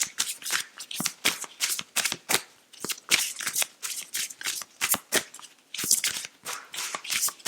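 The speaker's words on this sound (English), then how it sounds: "I do struggle to shuffle these really large cards" Large tarot cards are shuffled over and over in quick riffling bursts, a crisp rhythmic flutter close to the listener, with no talking.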